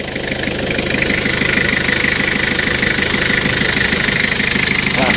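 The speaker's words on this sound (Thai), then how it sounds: "เสียงเครื่องยนต์นิ่มดี ชึบเป็นเครื่องยนต์ 2L นะครับ เครื่องยนต์ 2L เชื้อเพลิงดีเซล" A Toyota Mighty-X pickup's 2L diesel engine idles close by with a steady rhythmic knocking rumble, and someone talks over it.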